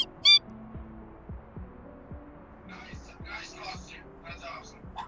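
Soft, low bird-like chirps made by a person imitating a bird repeat in a steady rhythm, about eight of them, with faint breathy rustling sounds in the later part.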